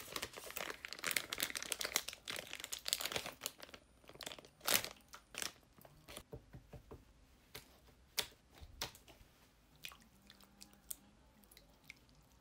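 Cheap fake-mud slime, a 1-yuan bargain-site toy with a soft, jelly-like feel, squished and kneaded by hand, giving close, quiet wet crackles, crinkles and squelches in irregular bursts with no voice.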